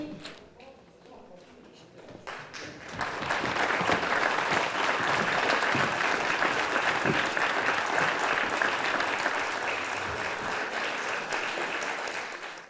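A dense crowd claps loudly and steadily through most of the clip after a quieter, scattered start, with occasional voices mixed in, at a Slovenian folk-music television show.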